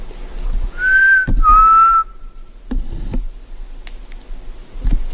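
Mysterious whistle outdoors on a quiet trail: a few clear, mid-pitched whistled tones, one sliding downward, followed by sparse ticks and rustles in near silence.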